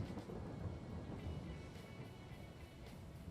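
Steady rain with low rumbling thunder fills a farming video game scene, a continuous broadband wash of moderate loudness with no talk.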